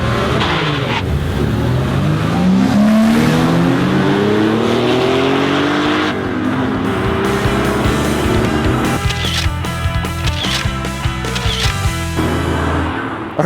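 Three red Porsches, a 930 Turbo, a 911 SC and a Boxster, drag race: loud flat-six engines rev and climb through the gears, shifting and accelerating hard, then a car passes close with rapid rattling bursts near the end.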